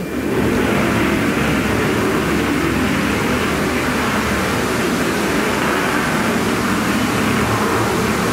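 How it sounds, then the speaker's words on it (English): The Avro Vulcan XH558 bomber's Olympus jet engines roar past at the Bournemouth Airshow, a dense, continuous, loud rushing roar that holds steady with no talk. "Another great roar from those mighty Olympus engines."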